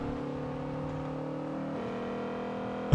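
Honda car engine revving, heard from inside the cabin: a steady, even drone that shifts pitch partway through as the revs change, ending with a short sharp knock.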